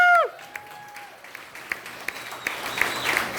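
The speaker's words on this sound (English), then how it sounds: "another round of applause for our guests." A crowd at the Bitcoiner Bash meetup in Cleveland applauds its guests with fairly light, scattered clapping that follows a brief electronic tone and builds slightly toward the end.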